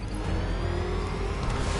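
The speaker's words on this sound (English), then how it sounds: "That car's gonna smash us to pieces!" Continuous low car engine rumble in a Batman video game, a steady close drone with slight revving texture for just under two seconds.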